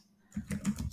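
Quick clicks from a computer keyboard as code is typed, a short burst of several keystrokes, close and fairly quiet.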